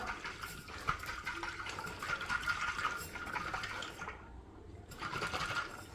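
A closed jar holding water and cumin seeds is shaken hard. Quiet sloshing and rattling swish back and forth in a steady rhythm, pause briefly, then start again.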